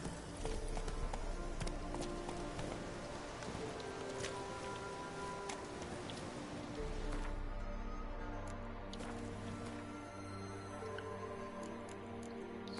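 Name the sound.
horse Roach galloping in video game The Witcher 3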